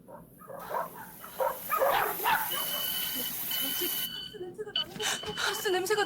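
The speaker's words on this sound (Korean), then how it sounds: "강아지가 계속 한 명을 향해 짖어요" A dog keeps barking at one person while voices talk over it; the barks and yelps come in and out, partly masked by the speech.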